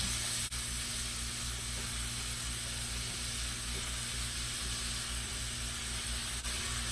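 Nopalitos frying in a pan with tomatoes and chiles put out a continuous, even sizzling hiss, close by and unbroken, with a couple of faint clicks and no voices.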